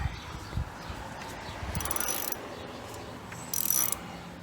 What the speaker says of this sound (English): So the ratchet goes the other direction.